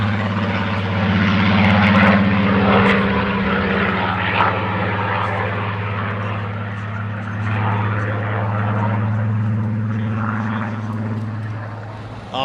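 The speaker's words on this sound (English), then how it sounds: "That's why it sounds a lot different, because it's the Griffin engine." Aircraft with a Rolls-Royce Griffon piston engine at an air display, a loud, steady, deep droning growl with a strong low hum, sustained throughout as it passes.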